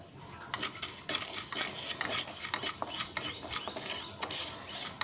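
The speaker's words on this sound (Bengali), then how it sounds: "একটা কড়াইয়ের মধ্যে দিয়ে শ্যামা চালটাকে একটু শুকনো কড়াইতে আমি নাড়াচাড়া করে একটু ভেজে নিচ্ছি।" Shama rice is dry-roasted in a kadai while a spatula stirs it in quick, repeated scraping strokes, with the grains rustling and rattling against the metal close up and no speech.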